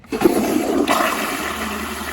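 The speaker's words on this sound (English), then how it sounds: "all the water that pours out from underneath the toilets or behind when I flush them" An American Standard toilet flushes with a loud rushing gush of water that starts abruptly, surges, then settles into a steady draining whoosh, close and alone without talk.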